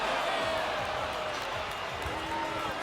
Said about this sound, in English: The crowd responding